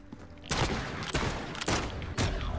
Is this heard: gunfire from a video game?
yes